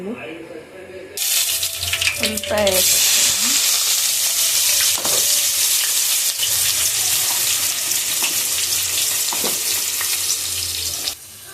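Cumin, mustard seeds, onion and curry leaves hit hot oil and burst into loud, steady sizzling that runs nearly the whole time, with a few sharp crackles and stirring clinks after a quieter start.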